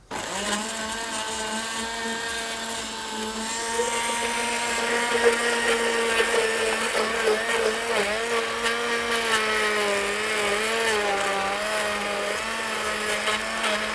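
An electric blender whirs continuously while pureeing onions, a steady loud motor drone with a churning, slightly varying pitch, no voices.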